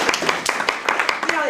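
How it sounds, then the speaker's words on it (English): Light applause from an audience at a school gathering, a scattering of distinct claps in an uneven rhythm, fairly close and brief, rising and falling over a moment. "Let's give her a little round of applause."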